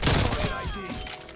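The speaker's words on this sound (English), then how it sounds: "Ooh, I love that TRACER fire." Red tracer rounds rip out in a rapid burst of gunfire in Call of Duty Cold War, loud and close at first and then trailing off, with a voice partly mixed in.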